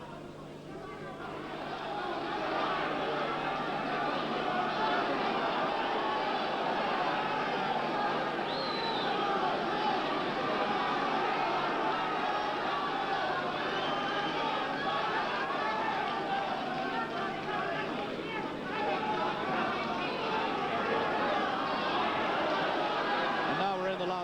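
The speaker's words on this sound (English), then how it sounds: "this crowd now willing Owen on" A boxing crowd cheers Johnny Owen on through a championship bout against Paul Ferreri, a steady, dense roar of voices and babble that holds at an even level throughout, with some talk mixed in.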